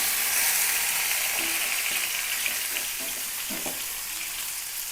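Marinated fish pieces shallow fry in hot oil in a pan over a low flame, giving a steady close hissing sizzle that eases slightly over a few seconds, with faint utensil taps and no talking.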